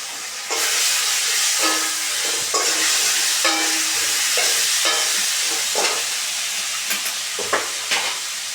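Ginger paste with green chili and cumin paste frying in a hot pan, a loud steady sizzle broken by repeated scraping stirs, close up with no talking.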